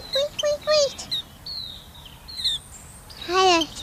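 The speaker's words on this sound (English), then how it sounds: "Come and have a swim, little birdie." A little bird at a bird bath gives bright, rapid chirps and short whistled calls in bursts, up close and fairly loud, mixed with soft voices.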